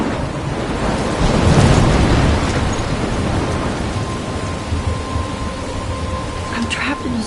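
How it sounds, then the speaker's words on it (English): Stormy weather in Life is Strange on PS5, steady heavy rain with a low rumble of thunder swelling early on, dense continuous wash filling the scene with no other sounds standing out. "I'm trapped in a storm?"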